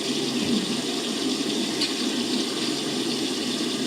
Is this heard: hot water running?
yes